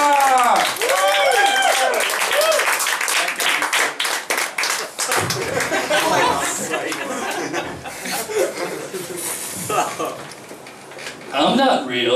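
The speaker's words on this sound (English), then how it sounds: "Can I round of applause, please, everybody? And then keep that noise going." Comedy club audience at Dirty Dick's clapping and cheering as a stand-up comedian is introduced, a loud burst of applause that fades into chatter and chuckles, with a voice speaking over it.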